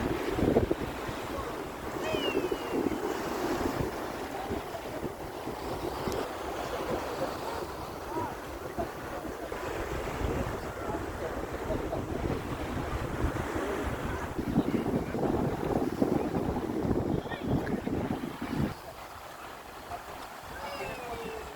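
Sea waves wash ashore at Antalya's Lara Beach under steady, gusty wind that buffets the microphone, a continuous rushing surf roar lasting throughout.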